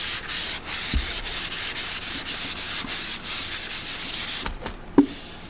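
Steady rhythmic rubbing of 400-grit sandpaper over a wooden cradle board, with brisk back-and-forth strokes that run continuously and close, ending with a couple of sharper knocks.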